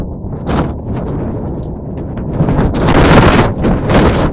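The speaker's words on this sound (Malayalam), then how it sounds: "കാലാവസ്ഥ വളരെ മോശം നല്ല കാറ്റും" Loud, gusting wind roars and buffets the microphone on the Valparai mountain pass, swelling stronger toward the end, with no voices present.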